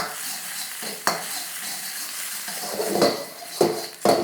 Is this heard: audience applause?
no